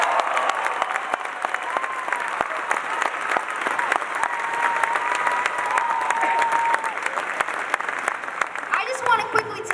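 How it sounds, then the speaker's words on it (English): A crowd at a political rally for a Maine Senate campaign gives a sustained round of applause, dense and even throughout, with a voice cutting in at the very end. "let's give a round of applause for all the work we have to do and all the work they're doing."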